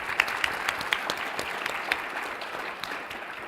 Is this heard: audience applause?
yes